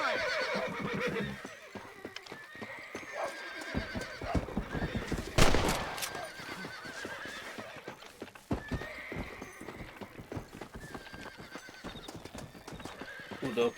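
A horse whinnies loudly midway through, with clip-clop hooves and scattered game sounds before and after, in Red Dead Redemption on Nintendo Switch.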